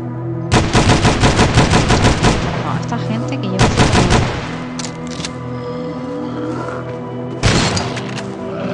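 Rapid automatic gunfire from a weapon in the zombie survival video game Dawn of Zombies: Survival, loud and close, in three bursts with a long sustained volley first, a shorter one mid-way and a final burst near the end.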